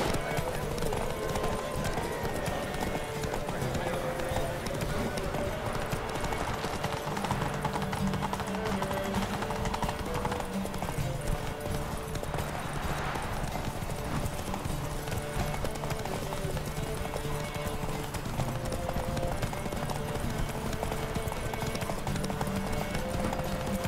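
A horse, Roach, gallops through the Palio race in The Witcher 3, its hooves drumming in a rapid, steady clip-clop throughout, set against continuous game music and ambience with voices underneath.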